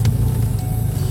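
A team car drives past beneath a bridge at Jayaguna Mlaris, a steady low engine rumble close by and fairly loud throughout, with no talk.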